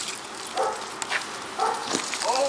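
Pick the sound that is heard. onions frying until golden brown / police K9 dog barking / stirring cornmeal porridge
police K9 dog barking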